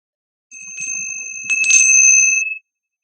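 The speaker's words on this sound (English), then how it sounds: "As the bell rings, I invite you to slowly open your eyes and return to the present moment." Meditation bell rung to close a session, two bright sustained ringing strikes, the second louder, close and clear with a shimmering tone that fades out after about two seconds, no talking.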